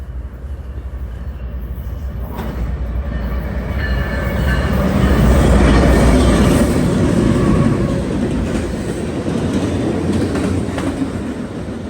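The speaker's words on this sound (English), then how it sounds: "the first train was a BNSF manifest with 2 Gevos and like 12 cars on it" A BNSF manifest freight train led by two GE Evolution locomotives and hauling about a dozen cars rolls past close by. A loud, steady rumble with clickety-clack swells to a peak and then slowly eases off.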